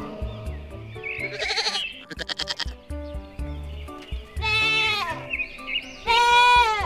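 Goats bleat loudly several times over a bouncy musical backing, the cries rising and wavering, the last two long and strong.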